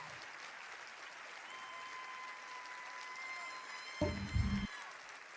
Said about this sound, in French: Ils applaudissent tous en plus ou moins direct.